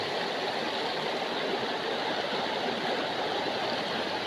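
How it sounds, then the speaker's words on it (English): A river flows in a steady, broadband rush of water that stays constant and close throughout, with no voices or other sounds. "Sacred river flowing, sacred river is growing."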